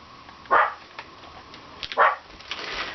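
A pet dog barks twice indoors, two sharp separate woofs about a second and a half apart, fairly close, with quiet room noise between them.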